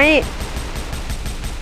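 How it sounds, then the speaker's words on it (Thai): Police gunfire in GTA V, a loud burst of rapid shots in the first moment followed by continuous dense crackling gunfire and noisy game action throughout. "เฮ้ย ตำรวจยิงทำไม"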